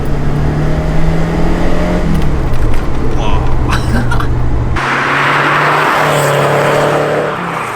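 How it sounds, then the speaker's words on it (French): A rear-engined turbocharged car pulls hard along a straight, its engine note climbing steadily and loudly toward around 4000 rpm, then shifting with a burst of rushing wind and road noise, heard from inside the cabin. "on entend vraiment qu'il y a le moteur derrière et tout"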